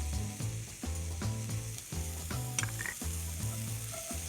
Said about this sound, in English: Saute these ingredients until just beginning to brown.